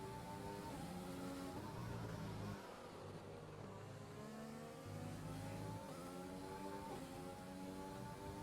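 A race car in a racing video game screams at high revs, bouncing off the rev limiter again and again in a loud, steady, close drone with brief dips between pulls.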